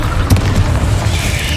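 Explosive Confringo spell blast in Hogwarts Legacy combat, a single loud booming burst near the start that rolls on in a rumbling, noisy tail.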